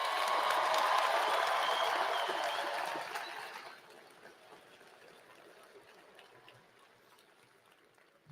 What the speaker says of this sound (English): Let's give a round of applause for education one more time.